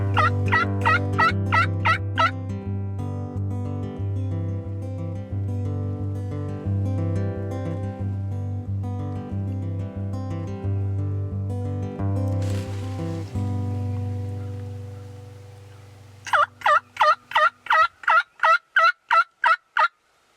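A wild turkey in Ontario gobbles loudly in repeated rapid bursts, with a steady low engine drone underneath that fades out before a final series of sharp, close gobbles.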